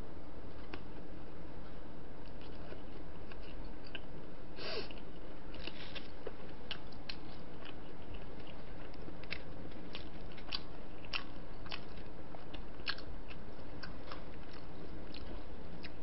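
Close crunching bites and chewing of cold jjamppong noodles, plum-sauce sweet and sour pork and fried rice at a mukbang eating show, with irregular crisp bites over a steady hiss and no talk.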